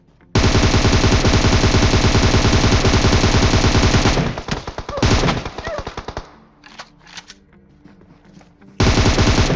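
PUBG gunfire from a Barrett sniper rifle and an M4: a long loud burst of rapid automatic shots, then scattered single shots and choppy fire, and a final loud burst resuming near the end.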